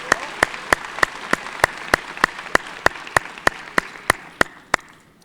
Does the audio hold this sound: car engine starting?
no